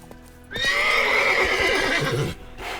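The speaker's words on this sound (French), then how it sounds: "Heureusement, Gérald peut toujours compter sur son cheval Ablette." Roach, Geralt's horse in The Witcher 3, lets out a single loud, drawn-out whinny that rises and wavers for about two seconds, then breaks off, with a brief snort trailing after.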